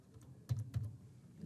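Two or three soft keystrokes on a keyboard while dummy card details are entered, quiet and close in a near-silent room, with no speech.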